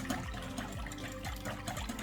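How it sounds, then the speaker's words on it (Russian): Warm water with dry yeast stirred into it is poured into a warm choux-style dough base, a close gurgling liquid pour with soft sloshing pulses, no talk over it. "И смело выливаем их в теплую заварную основу."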